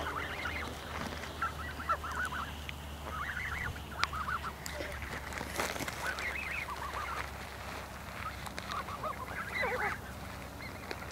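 Distant geese honk repeatedly in a scattered chorus over steady low background noise, with no talking.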